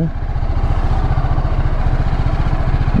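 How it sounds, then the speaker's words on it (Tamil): A motorcycle engine chugs steadily at a low, throbbing rumble while riding in Bangalore, loud and close, without any talking. "நம்ம ஜெரி பைக் பெங்களூரில் இப்போ தான் ஓட்டுறேன் சார"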